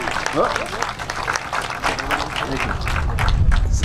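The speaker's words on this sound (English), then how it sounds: "Let's clap it up." Crowd applause at the groundbreaking ceremony for Humboldt Park Passive Living in West Humboldt Park, Chicago, outdoors, with steady clapping swelling toward the end while voices talk over it.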